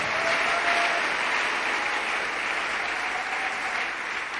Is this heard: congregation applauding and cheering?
yes